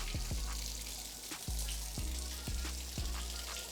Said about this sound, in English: I'm gonna go ahead and give it a rinse